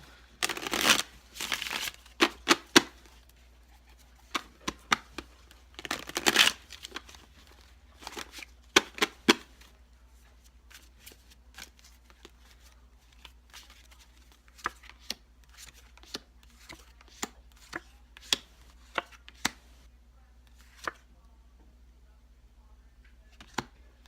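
Tarot cards being shuffled and handled, heard as close, crisp papery riffles and taps in scattered bursts over a quiet background, louder at first, then sparse flicks and clicks.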